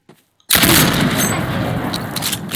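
A sniper rifle fires in the Roblox game Ray's Mod, one sudden, loud, sharp blast breaking a near-silence and leaving a long, roaring echo that fades slowly.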